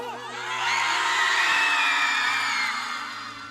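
An audience at a stage show in India swells into loud shouting, whooping and cheering, rising over about a second to a sustained crowd roar before tapering off, with a steady tone humming underneath.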